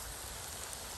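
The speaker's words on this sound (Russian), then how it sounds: "Наливаем масло. Начинаем жарить." Chebureki frying in hot oil, a steady dense crackle and hiss of bubbling fat, close and even throughout with no talk.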